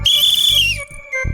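A shrill, high whistle rises and then slides downward over about a second, loud and clear against a quiet background, followed by a short low rumble.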